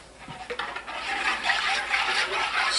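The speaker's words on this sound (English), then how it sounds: "So I'm going to add water to this." About a cup of water poured onto cabbage in a container for homemade sauerkraut, a steady close splashing rush that builds after a few small knocks and continues throughout.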